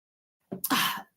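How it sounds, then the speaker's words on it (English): A single sharp sneeze, close and fairly loud, with a short intake before the burst and nothing else around it. "I got to sneeze at the time."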